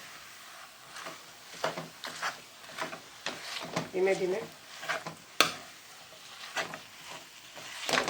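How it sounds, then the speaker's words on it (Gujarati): A spatula stirs a dates and ghee mixture in a pan for Khajur Pak. Repeated scraping strokes come over a soft sizzle, with a person speaking quietly between the strokes. "આ મેશ થાય ને ત્યાં સુધી એને ફેરવતો રહેવાનો"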